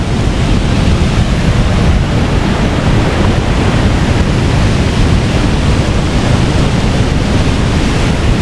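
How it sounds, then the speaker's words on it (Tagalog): A strong waterfall at A-ET Dam in Sulat, Eastern Samar sends down a loud, continuous broadband roar of rushing water, steady and close throughout with no voices. "Kaya malakas yung agos ng tubig."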